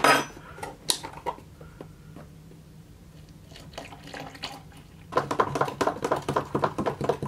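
Milo powder spooned into a cup: a few light metallic clinks and scrapes of a spoon against the cup, then a busier burst of tapping and clatter near the end, fairly quiet with no talk.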